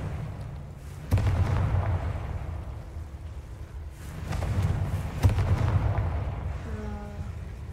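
Confringo fire-blast spell exploding in Hogwarts Legacy, several sharp booming blasts with rumbling tails, spaced a few seconds apart, followed by a faint tonal chime near the end.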